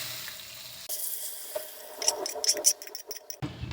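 Boiled peas and potatoes tipped into a hot frying pan: a sudden burst of sizzling, then scraping, tapping and spattering as the pieces are moved and settle.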